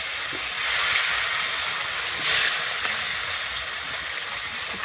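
Bhetki fish fry in hot mustard oil in a kadai with a steady, close hissing sizzle that swells slightly a couple of times.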